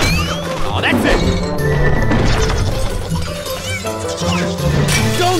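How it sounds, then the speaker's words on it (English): Smashing and crashing from a Shrek SuperSlam video game cutscene, loud and continuous with a dense clatter of impacts layered under music and game effects. "Shrek, I didn't hear you come in with all that smashing, bashing, and crashing."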